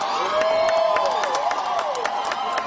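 A crowd at a Homa Bay rally cheers and claps, dense shouting and whoops mixed with scattered hand claps, loud and close throughout the short burst.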